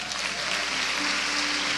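Brief, dense clapping from a church congregation during a sermon forms an even, continuous hiss of applause with no clear individual claps.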